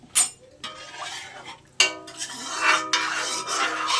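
Pots and pans, including a kadai, get scrubbed in a kitchen, giving rough rasping strokes and clattering metal in uneven bursts.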